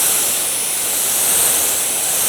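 Water sprayed across a car's surface makes a steady, close, even hiss that runs unbroken for about two seconds with no voices.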